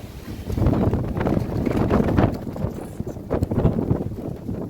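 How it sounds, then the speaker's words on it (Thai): Wind gusts steadily across an outdoor microphone, a loud continuous rumbling roar that swells and dips without pause, alone with no talk. "ลมพัดครับผม"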